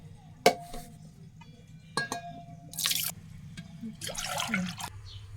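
Two measures of water go into a cooking pot for a tandulja amaranth greens curry, heard as short splashing bursts with a few sharp metallic clinks against a quiet kitchen background.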